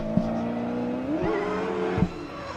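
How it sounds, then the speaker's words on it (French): A BMW 1 Series drift car screams through a drift run in a rising, warbling engine note with shifting pitch. Sharp thumps and bangs punctuate it, and it stays loud and close throughout. "top déclenchement pour la BMW avec l'avant qui sautille"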